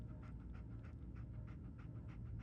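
A dog pants in steady, rapid breaths in the Fallout 4 video game, close and clear, with no talk over it.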